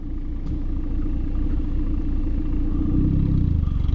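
A car engine strains and revs while stuck at a wreck race. The growl is steady and loud and builds toward the end, with a deeper surge of throttle and no one talking.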